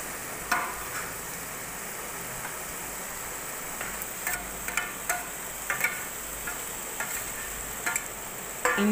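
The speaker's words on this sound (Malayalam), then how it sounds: "സവാള വഴന്ന ശേഷം അതിലേക്ക് ഇഞ്ചി, വെളുത്തുള്ളി ആഡ് ചെയ്യുന്നുണ്ട്" Onion with ginger and garlic sautéing in a pan for a Malappuram-style chicken curry, a steady close sizzle broken by occasional light clicks of a spoon against the pan.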